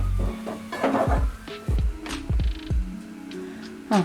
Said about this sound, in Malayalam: എല്ലാ സവോളയിലെല്ലാം നന്നായിട്ട് നന്നായിട്ടൊന്ന് ഇളക്കി കൊടുക്കാം